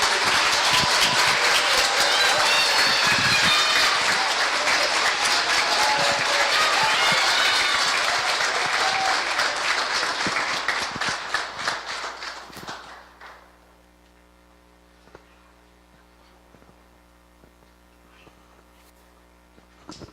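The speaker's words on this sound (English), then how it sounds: "I think we need to give all of them a round of applause." A crowd at a community college graduation ceremony applauds the graduates with loud, dense clapping that holds for about ten seconds, then thins to scattered claps and dies into near silence.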